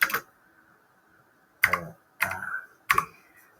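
Bursts of computer keyboard typing, with a short burst at the start and then three more clusters of quick key clicks, close and fairly crisp, while searching for a trading indicator. No one talks.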